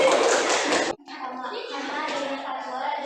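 Group of Indonesian schoolchildren in a classroom clapping their hands, a short loud burst of dense clapping that stops abruptly, followed by children's voices chanting together.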